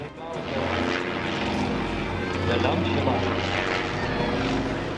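Aircraft engine of a biplane spiraling down out of control before crashing at a Kansas City airshow in 2011, a steady droning roar heard from a distance across the full span, with crowd voices and talk mixed underneath.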